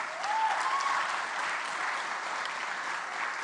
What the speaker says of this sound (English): A round of applause for our sponsors,